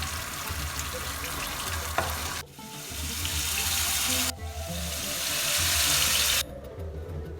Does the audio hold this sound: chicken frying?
yes